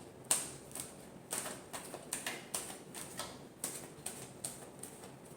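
Tarot cards being shuffled, heard as a series of crisp, sharp snaps and riffles at irregular intervals, about ten distinct bursts, close and moderately loud over a quiet background.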